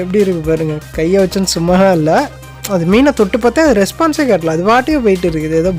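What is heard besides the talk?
No everyday noises stand out.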